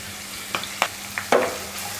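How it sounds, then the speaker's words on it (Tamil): Onions and curry leaves frying in hot oil for a bitter gourd and potato fry, giving a steady close sizzle broken by a few sharp spatula clinks against the pan. "வெங்காயத்தை லைட்டாக வதக்கிட்டு"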